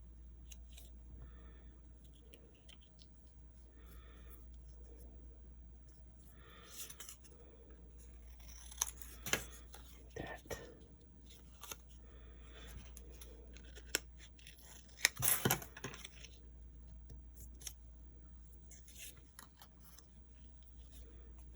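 Scissors snip paper card around a figure for an embossed diorama wedding card, with quiet, irregular cuts and rustles close by, a sharper cluster of snips near the end over a low hum.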